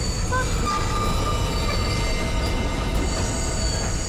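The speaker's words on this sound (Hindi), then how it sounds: "ट्रेन यहाँ क्यों रुकी?" Steady rumble of a moving train, with rail and wheel noise holding loud and even throughout as it runs along the track, no voices.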